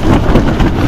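Heavy rain lashing down with strong wind during a super typhoon at a motocamping site in Pagudpud, a loud dense roar of close, continuous downpour.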